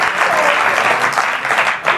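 Brief burst of studio audience applause on a late-night television talk show, loud and continuous with a few surging claps, voices faintly mixed in.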